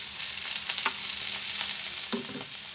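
Teasel gourd bhaji sizzles in oil in a pan, a continuous bright crackle punctuated by a few scraping spatula strokes as it is stirred.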